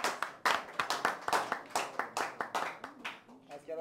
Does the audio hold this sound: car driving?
no